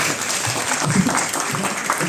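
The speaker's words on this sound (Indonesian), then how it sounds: "Tepuk tangan" Applause from an audience at a Buddhist temple talk, a dense patter of clapping hands close by, mixed with murmuring voices throughout.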